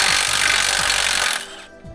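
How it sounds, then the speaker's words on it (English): Impact wrench or power tool loosening the bottom shock absorber bolt on a Jeep Wrangler JK, a loud close rattling buzz that runs for over a second then cuts off, followed by a brief clank. "Now you want to take off the bottom bolt on the shock absorber"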